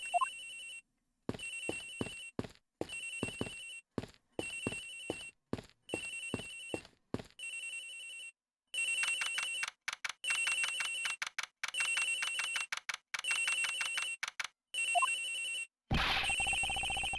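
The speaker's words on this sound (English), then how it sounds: "Agent Hicks's phone! It's ringing from somewhere, sir!" A cell phone rings in the Ace Attorney Investigations video game, a loud repeating electronic ringtone in regular bursts with short gaps, a faster, denser ringing pattern in the second half, then a brief burst of noise at the end.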